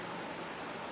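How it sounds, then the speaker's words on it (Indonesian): Steady rain falls in a dense, even hiss, a constant wash of noise with no distinct drops and no voices. "Ini suasananya hujan, ya."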